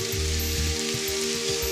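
Oil sizzling in a modern frying pan while a tomato sugo is cooked, a steady soft crackle with low clunks of stirring, brief and fairly quiet.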